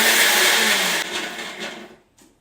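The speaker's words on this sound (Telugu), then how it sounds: "మిక్సీని జార్కు ఫిట్ చేసి మిక్సీలో వేసుకుని 1-2 తిప్పులు తిప్పాలి" A mixer grinder whirs loudly as it grinds roasted urad dal, mustard seeds and curry leaves in its jar. The steady roar lasts about a second, then winds down in short bursts and stops.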